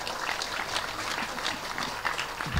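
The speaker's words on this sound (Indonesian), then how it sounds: "Tepuk tangan untuk Maung Hercules." An audience at a religious gathering claps in sustained applause, a dense patter of many hands, moderately loud and continuous, with a brief low thump near the end.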